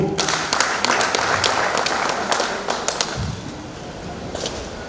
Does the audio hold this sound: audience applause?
yes